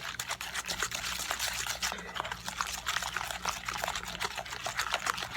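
Honey madeleine batter with eggs being beaten until foamy, giving a steady wet, sloshing whir with faint liquid trickles and clicks that carries on at a moderate level throughout, with no voices.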